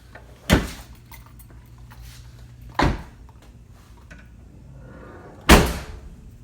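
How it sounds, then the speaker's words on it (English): A heavy car trunk lid and doors fitted with KilMat sound deadening shut three times, each a solid, dull thud spaced a couple of seconds apart, close by against quiet background. "that trunk lid sound heavy"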